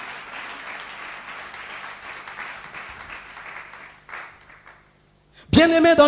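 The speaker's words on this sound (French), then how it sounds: "Tobeteli nkolo maboko." Church congregation clapping their hands in praise of the Lord during a sermon; a soft murmur of voices first, then a loud burst of applause-like clapping at the end, with singing or shouting over it.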